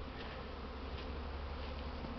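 Honeybees on their spring cleansing flight around the hives of an apiary, a dense, continuous swarm buzz, soft and steady, with no voices.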